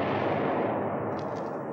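Artillery fire thunders through a WW2 battle scene from a restored 1951 film, a single dense, loud, close roar of blast and rumble that fills the moment with no voices over it.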